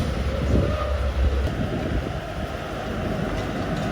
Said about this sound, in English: We can sit here and watch the road trains come in.